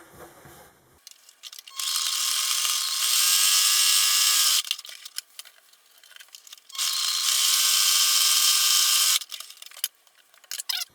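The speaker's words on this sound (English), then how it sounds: "we're going to sew 1 stitch down each one of those just to keep them folded over like that" A sewing machine stitches down the folded edges of fabric for a mag pouch in two sustained bursts of rapid, whirring needle chatter, close and loud, separated by brief pauses with light handling clicks.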